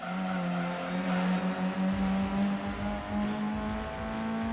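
A BMW E36 engine in Gran Turismo 2 revs steadily with a strong sustained harmonic drone, loud and continuous throughout with slight pitch swells, no talking over it.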